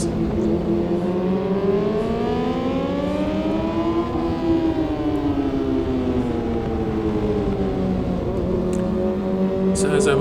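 A 2023 BMW S1000RR motorcycle races around the COTA track, its engine whining and rising and falling through the gears under constant loud wind rush.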